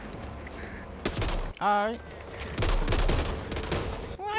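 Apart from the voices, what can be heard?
gunfire in zombie video game Back 4 Blood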